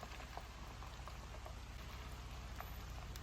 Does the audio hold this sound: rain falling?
yes